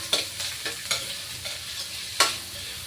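A large white onion sautéed in a pan for stir-fried bitter gourd, a low continuous sizzle broken by several sharp scrapes and knocks of a spatula against the pan.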